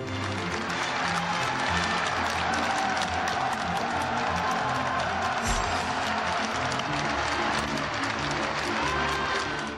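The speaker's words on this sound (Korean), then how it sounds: "시민들은 차 가까이 다가와 죽음을 걸고 자유를 찾아온 이들의 용기에 박수를 아끼지 않았습니다." Dense, steady applause from a large crowd of townspeople gathered near a vehicle to welcome defectors, recorded in old archival footage; continuous clapping at an even loudness throughout with a brief low thump midway.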